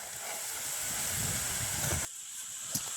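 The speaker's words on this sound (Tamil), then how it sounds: "இப்படியே நாங்கள் வெட்டி வச்சுக்கிற மிரக்கறியை உடனே பொறிச்சு எடுப்போம்" Chopped vegetables frying in hot oil in a village kitchen, a steady bubbling sizzle that cuts off abruptly near the end, leaving quiet background with a faint clink.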